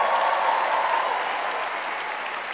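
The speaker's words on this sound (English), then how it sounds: "So give a round of applause to them" Sustained applause from an audience, a dense wash of clapping that holds steady and fades slightly toward the end.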